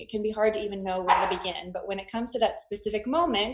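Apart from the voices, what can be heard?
dog barking in the background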